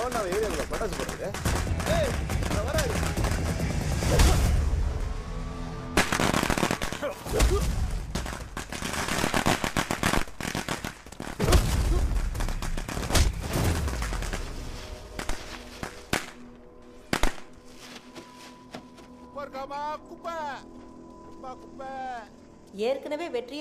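Loud, dense crackling bursts of firecrackers go off in rapid volleys, thinning out toward the end as voices and music come through.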